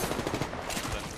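Rapid gunfire in the video game Apex Legends, a dense automatic burst of shots running through the whole short moment, moderately loud with no voices.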